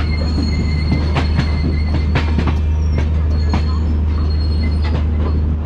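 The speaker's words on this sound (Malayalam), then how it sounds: "ഹസ്രത് നിസാമുദ്ദീൻ റെയിൽവേ സ്റ്റേഷനില് ഞങ്ങളുടെ വണ്ടി എത്തിയിരിക്കുകയാണ്." Himsagar Express pulling into Hazrat Nizamuddin railway station: a heavy, continuous rumble of wagons close by, with sharp wheel squeals and clanking joints repeating over the steady roar.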